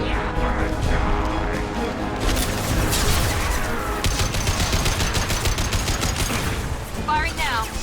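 A dense, continuous firefight plays out in Mass Effect 2, with overlapping gunshots and bursts layered over loud game noise and heavy low rumble.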